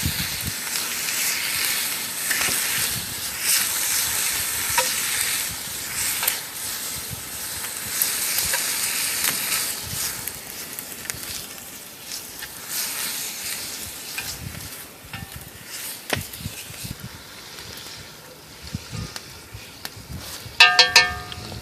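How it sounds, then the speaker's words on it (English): Bacon browns in a Dutch oven hung over a hot campfire as a skillet, giving a steady loud sizzle and crackle with occasional stirring scrapes and clinks, no talking. "Since it's all I'm doing at this point is browning this bacon."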